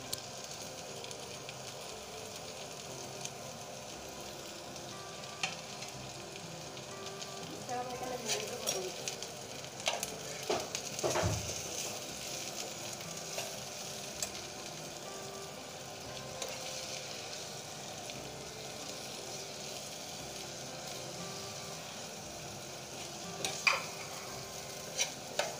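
Okra frying with masala spices in a pan, a soft steady sizzle broken by occasional scrapes and clicks of stirring, fairly close but quiet.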